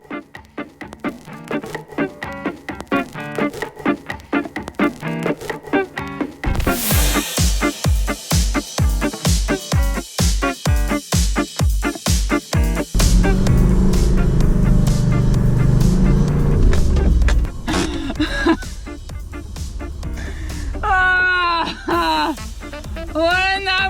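A 4x4 Troopy bogged in mud, its engine revving hard in repeated loud bursts and then a long sustained roar as the wheels spin, with voices and shouting near the end.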